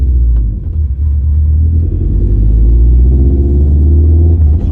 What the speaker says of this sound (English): when I try to punch it is when it's choking. It's literally choking right now.